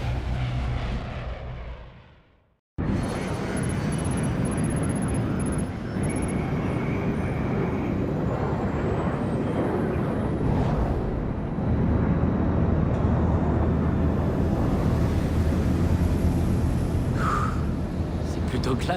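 A steady, loud airplane cabin engine drone in the stealth video game Splinter Cell Blacklist, preceded by a brief cut to silence, then a continuous broadband roar that persists throughout.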